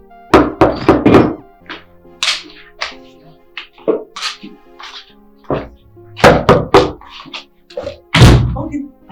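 Repeated loud knocks on a door in irregular bursts of sharp thuds, close by, with some short gaps between the volleys and occasional voices calling.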